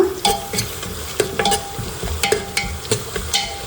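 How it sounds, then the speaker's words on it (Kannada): Onion and mint sautéing in oil for palak pulao, stirred in a pan: a soft steady sizzle broken by repeated close scraping and clinking stirs. "ಇದು ಸ್ವಲ್ಪ ಎಣ್ಣೆ ಬಾಡಿಸ್ಕೊಳ್ಳೋಣ"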